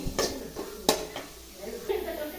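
Thoothuvalai (Solanum trilobatum) leaves sauté in a pan, with a few sharp spatula scrapes and knocks against the metal over a faint, low sizzle.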